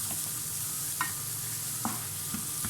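Vegetables sautéing with onion in a hot pan give a constant bright sizzle, with a few soft spatula scrapes and taps as they are stirred.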